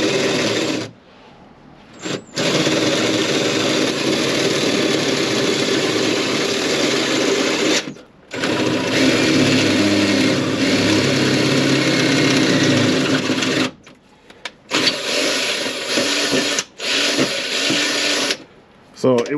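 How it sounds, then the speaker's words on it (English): A power drill boring a hole through a car's spring perch during an Air Lift 3P suspension install on a VW MK5 R32, a steady high whine running in long stretches broken by brief stops, close and loud. "I have the spring perch and I have my drill"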